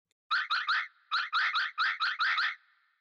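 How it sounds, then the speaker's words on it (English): A heavily processed car alarm sounds alone in three groups of rapid electronic pulses: three, then three, then four chirps. It is bright and close, with a short fading tail. "The main body of the sound comes from a car alarm sound I made for a previous project"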